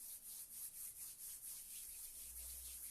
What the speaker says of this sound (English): And just rub your palms together.